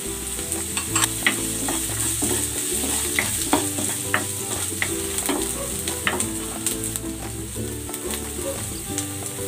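Onion frying and being stirred in a pan alongside ginger, with a steady close sizzle and repeated scraping stir strokes throughout, plus some background music tones.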